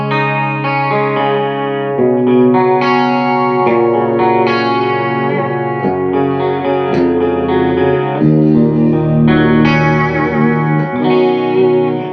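Clean electric guitar tone through an Axe-Fx live rig with light compression: loud, sustained chords and arpeggiated notes ringing with chorus-like shimmer, played continuously and alone.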